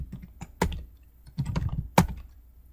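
Keystrokes on a computer keyboard in short irregular bursts of clicks with brief pauses between them, close and fairly clear, with no talking.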